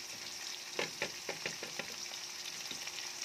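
Carrot strips for guisado pancit canton sizzle and fry steadily in a pan, with a run of sharp spatula stirs and scrapes over the constant hiss, close up and with no one speaking.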